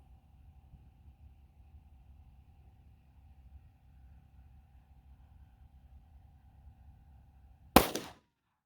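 One sharp, loud 10mm Federal Punch pistol shot cracks near the end after several seconds of low, faint rumbling background, with a quick echo trailing off and no talking.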